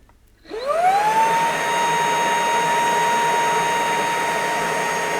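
A Shark ICZ300UKT cordless vacuum cleaner switches on and spins up to a steady, loud whine that holds for several seconds, heard alone.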